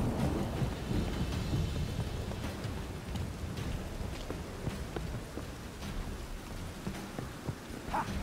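Steady rain with low rumbling thunder over a city in The Witcher 3, a dense broadband wash that holds evenly throughout with no voices.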